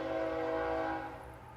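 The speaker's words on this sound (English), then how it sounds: "there's the train." A train passing nearby, a steady loud rumble with a sustained horn-like tone that fades slightly toward the end, no talking.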